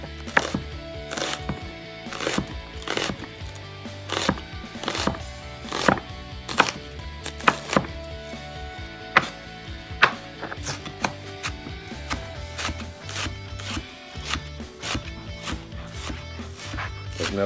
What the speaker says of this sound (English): chop up a little onion, sharp knife is important